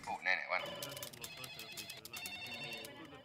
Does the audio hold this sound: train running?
no